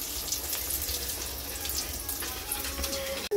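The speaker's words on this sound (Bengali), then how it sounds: "এদিকে বেগুন ভাজাটা হচ্ছে" Eggplant slices frying in a pan give off a soft, steady sizzle, quiet and continuous, with a faint clatter near the end.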